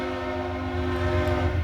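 A passing train sounds its horn in a loud, sustained multi-tone blast over a heavy low rumble of the moving cars, close and continuous.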